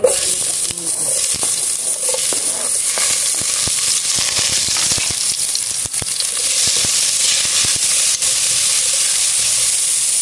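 Ginger sizzling loudly in a hot pan, a steady bright hiss of frying throughout with scattered crackles and pops, close and continuous.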